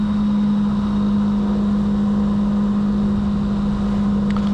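A Honda CB300R motorcycle engine cruises in sixth gear at around 64 mph, a loud steady drone with a constant low hum and wind rush that holds unchanged throughout.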